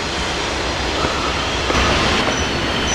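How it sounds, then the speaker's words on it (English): Two trains pass each other in opposite directions at Horseshoe Curve, a steady close rumble of wheels and cars with faint squeals, nothing else heard over the continuous rolling roar. "There's 2 trains going separate ways."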